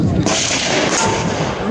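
A homemade bowling ball cannon fires outdoors, a sudden loud blast with a broad roar of air and rumble that sustains for over a second.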